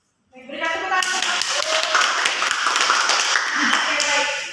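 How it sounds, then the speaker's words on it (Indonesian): Students in a classroom applaud after a group presentation, a dense, steady clatter of many hands clapping at close range that starts abruptly and holds loud to the end, with voices mixed in. "Berikan tepuk tangan."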